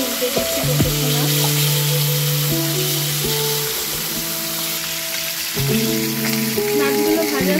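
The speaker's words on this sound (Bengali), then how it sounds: "এবার মাছগুলো একে একে ভাজতে দিই।" Fish pieces fry in hot white oil with a loud, dense, continuous sizzle close by, overlaid by scraping and clanking from utensils handled near the pan.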